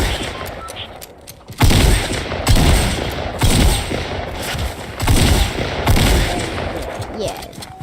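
Shotgun blasts fire in a video game, several loud booming shots spaced roughly a second apart, each followed by a rumbling tail, with faint background game sounds and no speech.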